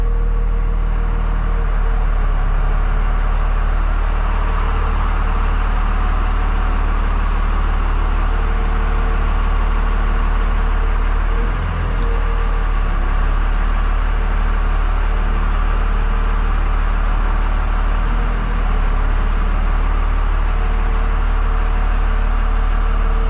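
A tow truck engine runs at a steady, loud idle, a deep continuous rumble that stays close and even with only slight shifts, and no voices over it.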